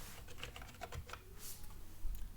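Quick, light clicking of keys on a computer keyboard as an email address is entered into an online application form, an irregular patter of close taps with no speech.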